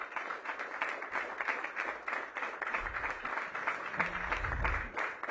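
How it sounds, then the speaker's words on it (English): Applause for the fire department at a mayor's press event, a steady patter of many hands clapping, fairly faint and even, with a brief low thump near the end. "So give them a round of applause for what they do every day."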